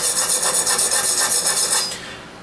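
A knife blade being reprofiled on Spyderco Sharpmaker diamond rods gives a steady, rhythmic rasping scrape, close and fairly loud, in repeated strokes that stop abruptly near the end.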